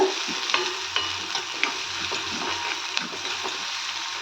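Onions sizzle and fry in a pan for an egg gravy, with steady close crackling and repeated scraping stirs throughout, no voices.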